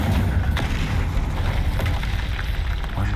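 A fire spell explodes in Hogwarts Legacy with a loud, continuous rumbling roar and deep booms layered over a dense game soundscape, with no talking.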